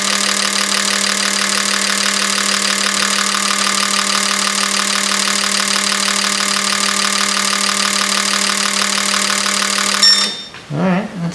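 An Autool CT200 fuel injector tester fires an injector at a rapid, steady rate, giving a loud, close, continuous clatter much like an idling diesel engine. It runs evenly for about ten seconds, then stops, leaving faint handling noise.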